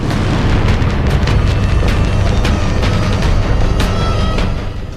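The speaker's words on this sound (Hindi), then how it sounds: "रूस की आर्टिलरी यूनिट पर यूक्रेन का हमला" Loud, sustained rumbling blast from a Ukrainian strike on a Russian artillery unit, booming without a break for about five seconds with sharp crackling bursts on top, then easing slightly at the end.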